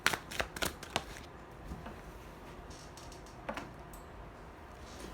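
Tarot cards being shuffled to draw a clarifier card, a quick run of crisp riffling flicks up close at the start, then quieter soft card taps and one more brief flutter against a hushed room.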